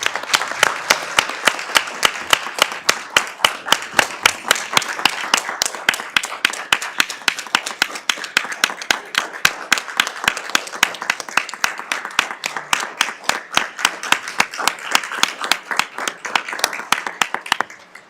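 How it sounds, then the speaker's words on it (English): Applause and clapping in a county commissioners' meeting room, a small group of hands giving crisp, distinct claps at a brisk, steady rhythm for the whole stretch, fairly close and loud. "I'd like to give them a big, huge round of applause for everything that they did"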